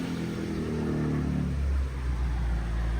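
A BMW M5 with an Akrapovič exhaust, a deep loud engine rumble with harmonic tones sliding as the revs change, steady and close with no talking.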